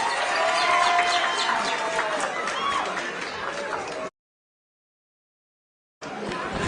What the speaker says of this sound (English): You may clap again.